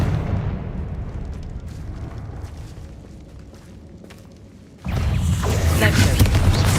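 A Confringo spell explodes in the Hogwarts Legacy game as a sudden loud blast, followed by a sustained roaring burst of noise over a low rumbling game soundscape.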